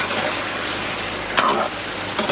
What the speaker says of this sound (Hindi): इसको हम अच्छी तरह फ्राई करेंगे।